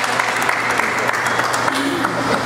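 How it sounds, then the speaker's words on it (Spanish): Steady applause from an audience at a youth robotics competition send-off ceremony in Boca del Río, dense and sustained throughout with a faint tonal hum underneath. "si les brindan un aplauso porque de verdad se lo merecen"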